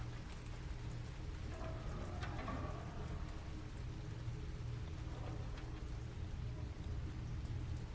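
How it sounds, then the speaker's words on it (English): Steady rain pours down in the Silent Hill 2 Remake game, a continuous hiss of falling water with faint droplet patter over a low rumble of ambience, no voices. "it's raining here"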